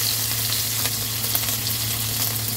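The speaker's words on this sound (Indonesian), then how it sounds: "Kita tumis-tumis teringnya sampai harum matang ya." Teri anchovies and ginger stir-fry in hot oil, giving a loud continuous sizzle with a faint steady hum beneath and a few light scraping stirs.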